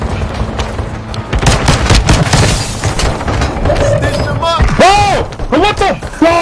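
Bursts of gunfire and booms in an online shooter match, loud and overlapping with excited players talking over the game audio.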